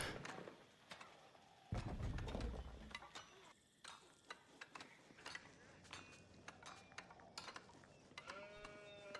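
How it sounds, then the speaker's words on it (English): Sheep bleat and livestock move about amid clattering game effects during an Age of Empires-style strategy match, with short overlapping calls and busy mechanical clicks at a steady level. "Beasty is able to pick up a few more sheep on the way back"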